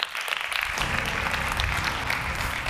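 An audience at a startup pitching event applauds, a dense, even wash of clapping that holds steady from start to finish.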